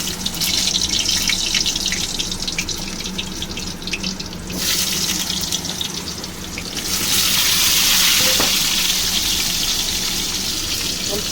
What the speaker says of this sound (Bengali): এবার আমি আলুগুলো ছেড়ে ভেজে নেব।